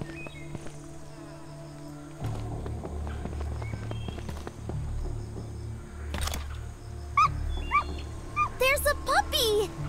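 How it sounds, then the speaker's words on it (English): A puppy whimpers in the zombie survival video game Doomsday: Last Survivors, its thin high cries rising near the end over a droning game soundtrack and low rumble, with footsteps and scattered effects throughout. "There's a puppy!"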